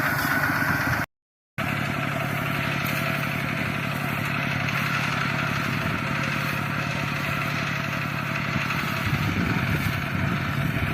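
A walking tractor engine runs at a rice farm in Laos, chugging steadily at close range in a rapid, even idle with a brief cut near the start.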